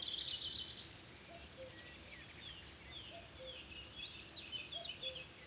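Birds chirping in short, separate calls with small gaps between them, moderately faint over a quiet outdoor background.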